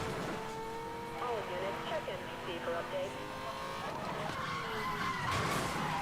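Tires squeal steadily as a car drifts around a corner in a racing video game, a continuous wavering screech with engine drone underneath.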